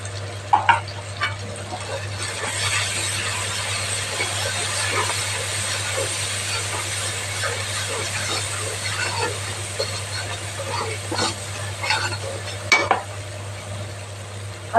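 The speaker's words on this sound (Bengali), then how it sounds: "তো এটা এখানে দিয়ে দিচ্ছি মশলাটা।" Spice paste for a hilsa roast sizzling steadily in a pan with occasional clinks and scrapes of a spoon, a continuous close frying hiss over a low hum, no talk heard.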